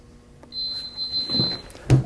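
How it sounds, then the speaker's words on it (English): A heat press pressing thermofilm onto a jersey gives a thin steady electronic tone, followed by a few soft clicks and a short thud near the end, all fairly quiet with no talking. "It will count down to 0 and beep when it's completed."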